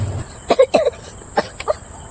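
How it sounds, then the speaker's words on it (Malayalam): A person gives several short, close coughs in quick bursts, with a throat-clearing rasp between them, over a quiet hissing background. "എനിക്ക് ഭയങ്കര ചുമ"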